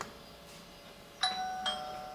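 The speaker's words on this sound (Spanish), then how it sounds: "y se genera el timbre automáticamente" A Sonoff TX Ultimate smart switch sounds its doorbell chime, two bright electronic ding tones about half a second apart over a quiet room.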